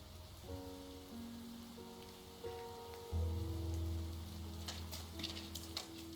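Soft, steady video game rain patters beneath a low tonal hum, with scattered drops ticking more sharply toward the end.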